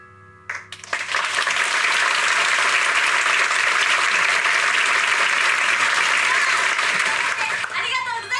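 After a brief quiet moment, an audience at a performance erupts into dense, sustained applause that stays loud and even before tapering slightly at the close.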